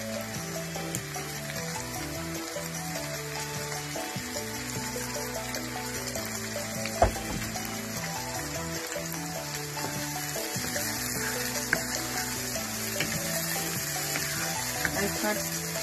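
Onions, curry leaves, pandan leaves and green chili sizzle and fry steadily in hot oil for a potato fry, a constant crackling hiss with occasional stirring clatter and a brief sharp knock.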